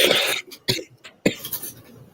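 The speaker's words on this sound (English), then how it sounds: "Is the coughing too loud?" Several sharp coughs in a row, close and loud, with brief gaps and a rough throaty tail between bursts.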